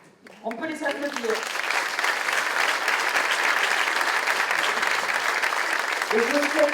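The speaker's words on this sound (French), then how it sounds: "On peut les applaudir." Sustained audience applause at a film festival closing ceremony in Pauillac, a loud, dense clapping that swells after a short spoken opening and continues for several seconds before a voice returns over it.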